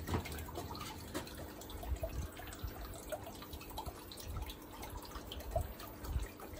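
Water trickling and dripping steadily through the gravel of a flood and drain aquaponics bed, a close, continuous splashy flow with scattered drips, no voices.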